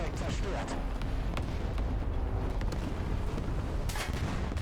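Enemy gunfire strikes and bursts around a truck-mounted 8.8 cm Flak gun in the combat game War Thunder, several sharp impacts and cracks spread over a few seconds amid a loud noisy battlefield mix.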